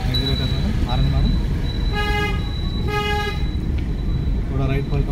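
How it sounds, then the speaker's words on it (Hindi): A car horn toots several short times from inside a car on the road during a driving lesson, with an instructor talking throughout and traffic noise behind. "और एक बार हारन मारो"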